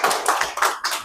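A short burst of loud, uneven clapping from an audience at a mobile phone repair institute gathering in Lahore, lasting about a second.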